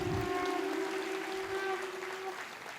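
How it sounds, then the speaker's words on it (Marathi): An audience claps steadily at a felicitation ceremony during a Brahman community gathering, a dense, even wash of applause that holds throughout alongside a sustained tone from the hall. "टाळ्यांचा आवाज जोरात येऊ दे जरा"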